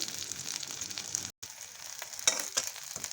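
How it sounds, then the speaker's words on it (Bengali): Steady crackling sizzle of cabbage fritters frying in hot oil, with a brief gap and a couple of sharper pops near the end. "পাতাকপি বাঁধাকপি বড়াটা আমার এই কয়েকটা ভাজা হয়ে গেছে"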